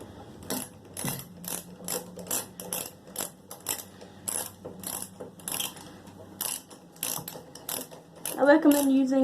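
A socket screwdriver tightens bolts on a Cub Cadet air filter cover, giving a long series of close, regular ratcheting clicks in quick rhythmic bursts, with a brief faint voice near the end.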